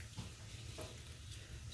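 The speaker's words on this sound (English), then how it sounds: "the shrimp is starting to sizzle a little bit" Shrimp sizzle gently in a pan at low volume, a soft crackling hiss with a couple of brief stirring scrapes, heard alone without talking.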